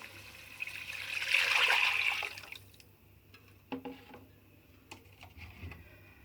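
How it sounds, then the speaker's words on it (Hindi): A lassi and gram flour mixture pours steadily into a pan for Punjabi kadhi for about two seconds with a rising, splashing rush, then fades into a few soft clinks and drips. "अब इसमें मैं लस्सी और बेसन का मिक्सचर वाली लस्सी डाल दूंगी।"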